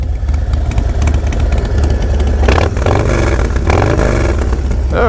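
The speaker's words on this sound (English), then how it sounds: "little startup action on the ST. Both Fab 28 exhausts." A Harley-Davidson Lowrider ST motorcycle with Fab 28 exhausts starts and idles loudly up close, its deep rumbling exhaust steady with slight blips of throttle.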